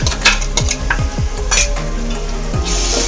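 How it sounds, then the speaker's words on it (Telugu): Ground green chillies and onions frying in a pan for a chikudukaya fry, loud close scraping and clanking of a spatula stirring against metal over a continuous sizzle. "కలుపుకొని మిర్చి పచ్చివాసన పోయేంత వరకు వేయించుకుందాం."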